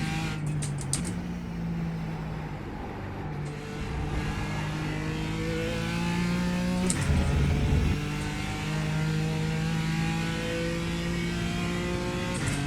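A BMW M4 GT4 race car engine in iRacing runs continuously close up, revving and shifting through gears with rising and falling tones, with a brief downshift blip midway.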